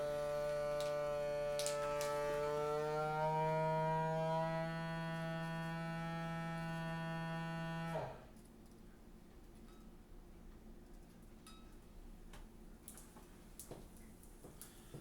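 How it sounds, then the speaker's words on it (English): A vacuum sealer's heating element gives a steady electric buzzing hum for several seconds, then cuts off abruptly, leaving near silence with a few faint ticks. "You can actually hear the heating element right now."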